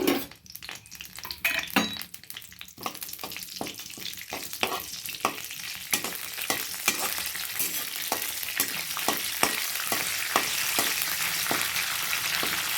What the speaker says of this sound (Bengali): এই দেখো এবার জিরে, তেজপাতা, শুকনো লঙ্কা ওর মধ্যে দিয়ে দিলাম